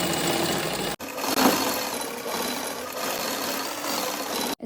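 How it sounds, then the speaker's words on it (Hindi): A sewing machine stitches salwar fabric in a steady continuous whir, running near and evenly for several seconds with a brief pause near the start. "अब हम सिलाई लगाना स्टार्ट करेंगे।"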